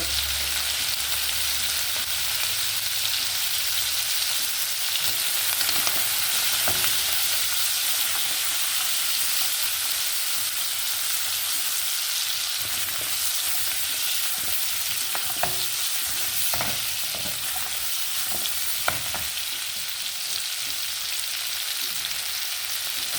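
Continuous loud sizzling from a pan as turmeric fries for chicken curry, with the scrape and clatter of a utensil stirring now and then, no voices.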